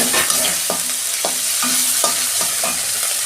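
Tomato and green chilli sizzling in hot ginger-cumin paste in a pan, a loud continuous frying hiss broken by a regular spatula stir about every half second, close up with no voices.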